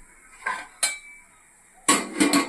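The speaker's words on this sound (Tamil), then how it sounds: "இட்லி பாத்திரம் வச்சுருக்கேன்." A metal idli steamer pot set down on a stovetop, giving a few sharp clattering clinks with quiet gaps between them and a busier burst of metallic knocks near the end.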